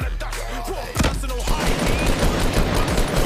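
Rapid gunfire, rocket blasts and sniper shots in a shooter video game, a dense, loud barrage of overlapping shots and explosions at close range with hardly a pause.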